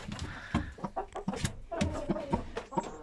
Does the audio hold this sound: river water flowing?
no